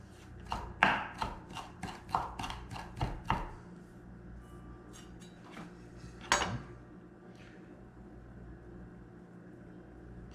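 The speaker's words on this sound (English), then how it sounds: "we lightly chop a little bit of" A knife lightly chops fresh cilantro on a cutting board in a quick run of about a dozen crisp taps, then a few scattered cuts and a louder knock, close and otherwise quiet.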